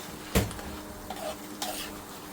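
Heated sauce being stirred into yogurt for Bombay potatoes, a sharp clink of a utensil against a bowl followed by a few softer scrapes and taps, close and without talk.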